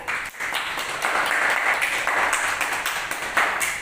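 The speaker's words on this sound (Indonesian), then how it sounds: "Oke, tepuk tangan untuk Rangga" Classroom applause after a student presentation, continuous dense clapping from a group, steady and moderately loud throughout with no speech over it.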